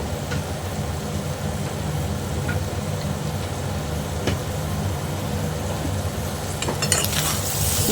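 Chicken masala with Kashmiri chilli powder being stirred in a hot pan gives a steady, close sizzle with soft scraping throughout, and a few sharper clinks of utensil on metal near the end.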